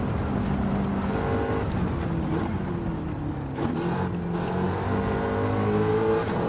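Eckert's Rod and Custom Mach Forty in Gran Turismo 7 at Circuit de La Sarthe, its engine droning steadily and rising as it accelerates out of a turn, loud and continuous with no talk.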